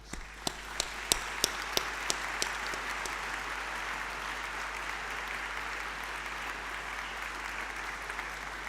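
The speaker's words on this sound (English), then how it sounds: "I think they all deserve a huge round of applause from us and students." Audience applause at a graduation ceremony: a steady, moderately quiet wash of many hands clapping, with a few sharper close claps standing out near the start.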